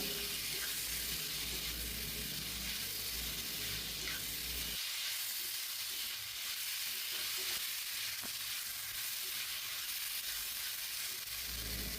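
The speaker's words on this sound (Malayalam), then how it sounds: "തക്കാളി ഏകദേശം വഴണ്ടി വരുന്നുണ്ട്." Tomatoes sauté in olive oil for chana masala, giving off a steady, close sizzle that carries on without a break and turns a little quieter partway through.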